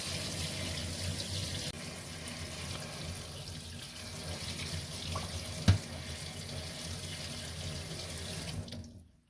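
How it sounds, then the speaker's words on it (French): A cold-water tap running into a sink over rinsed tomato seeds, a steady hiss of flowing water with one brief knock partway through before the flow cuts off at the end. "Et je passe au jet d'eau froide."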